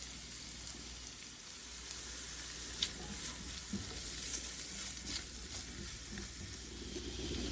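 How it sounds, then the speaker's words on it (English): Onion frying in a hot skillet, a dense, continuous sizzle and crackle with occasional stirring clicks, steady and fairly close, with no voices. "I've got my onion going in my hot skillet."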